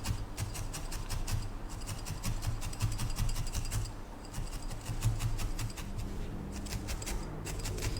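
A barbed felting needle repeatedly stabbing into wool while shaping a needle felted fox: quiet, close, rapid scratchy pokes in a continuous rhythmic patter with faint rasping texture.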